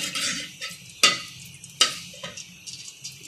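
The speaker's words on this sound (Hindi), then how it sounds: "अब हम इसके अंदर 3-4 सब्ज़ इलायचियाँ खोल कर ऐड करेंगे और इनको करकरा लेंगे।" Green cardamom pods crackling in hot ghee in a pan, a soft continuous sizzle broken by two sharp pops or taps of a spoon against the pan.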